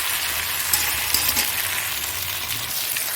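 Spice paste frying in a pan of Bengali aloo dum, a steady broadband sizzle with faint stirring scrapes, close and continuous without speech.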